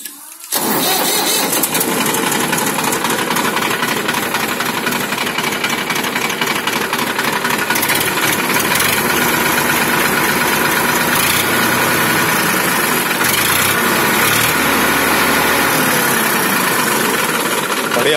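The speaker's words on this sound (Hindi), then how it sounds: "आवाज देखो भाइयों ट्रैक्टर की" A Massey Ferguson 5245 tractor engine starts and settles into a steady, loud diesel idle, recorded up close, with a constant rumbling chug that runs unbroken to the end.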